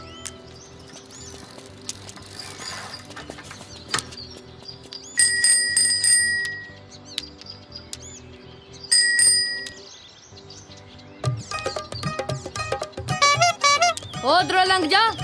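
A bicycle bell rings repeatedly in quick bursts, loud and close, among outdoor ambience with birdsong and bits of talk in a Punjabi comedy scene.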